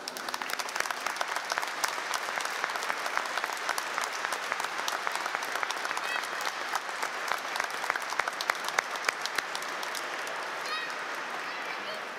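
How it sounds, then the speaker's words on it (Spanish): A church congregation at a Sunday Mass for the Assumption applauds the Virgin, with continuous, even clapping from a large crowd lasting over twelve seconds, moderately loud and with faint voices mixed in. "le vamos a regalar un fuerte aplauso a la Virgen"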